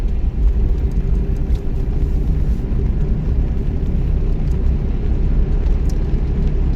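A car engine hums steadily and loudly during a driving lesson, with a constant low rumble throughout as the driver shifts into fourth gear, with no clear break in the drone.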